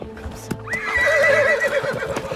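A horse gives one loud, wavering whinny that lasts about a second, over soft clip-clop hoof sounds nearby.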